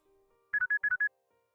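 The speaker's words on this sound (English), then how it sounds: "A notification sound interrupted my thoughts." A phone notification chime in the horror game Devil's Door: a quick, clean run of six short bright electronic tones in two groups of three, set against a faint quiet hum, with no voices.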